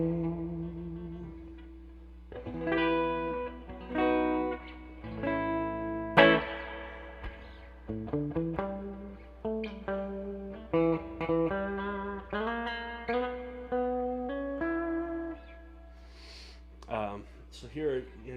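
Telecaster electric guitar through Samarium Cobalt Noiseless pickups played with a clean tone, picked single notes and chords ringing out in short phrases with gaps between, close and fairly loud, with no talking.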